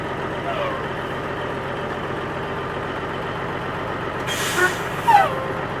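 A Kenworth truck idles nearby with a steady low diesel rumble throughout, while brief air hisses and a short squeal rise near the end.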